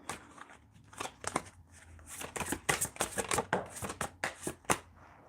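A deck of tarot cards being shuffled up close, with a run of quick, crisp riffling flutters and snaps in an uneven rhythm and no talking.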